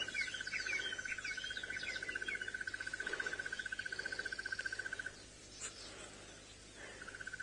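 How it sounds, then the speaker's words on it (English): Small birds chirp and trill in a busy chorus at sunrise on a safari drive, accompanied by a steady high pulsing insect-like drone that stops partway through. "You can hear all the little birds."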